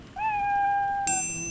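A single drawn-out cartoonish cat meow from the video game Neversong, a clear tonal cry lasting about a second, followed by a brief bright chime-like game sound, with no talking.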